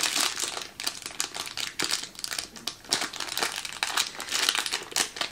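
A plastic Mystery Minis blind bag is squeezed and felt by hand, giving a close, continuous crinkling with uneven bursts and pauses, no talking.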